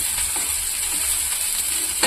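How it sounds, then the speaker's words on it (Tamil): Onion sautéing in a pan for an egg gravy, with a steady close sizzle and a few soft stirring scrapes near the end. "வெங்காயம் வதங்கட்டும்."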